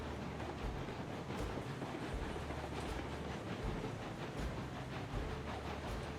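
A locomotive hauling an oil train rolls steadily at low speed on rails in Railroads Online, with a continuous low rumble and regular clickety-clack of wheels over rail joints, no talk.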